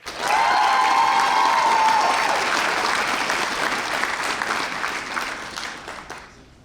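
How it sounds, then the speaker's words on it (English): Loud, full audience applause for Ivy Day award recipients, dense clapping with a whistle and scattered cheers near the start, sustained and gradually tapering at the end. "Please join us in another round of applause for these 2024 Ivy Day Awards recipients"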